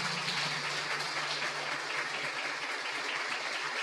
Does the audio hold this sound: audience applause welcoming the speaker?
yes